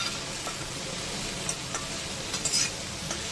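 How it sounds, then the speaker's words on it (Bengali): Snake gourd (chichinga) stirred in a pan over a medium flame with spice powder and salt, giving a steady low sizzle with faint scraping strokes and a few soft clicks near the end. "এবার আবার ভালো মতো নাড়াচাড়া করব"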